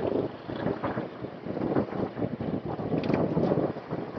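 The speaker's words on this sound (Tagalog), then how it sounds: "Malakas yung hangin." Strong wind buffets the microphone while riding a Honda PCX 160 scooter near a river, a steady rushing roar with gusty surges throughout and no talking.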